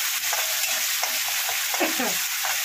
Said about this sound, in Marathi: त्याच्यामध्ये टाकूया आपण टमाटर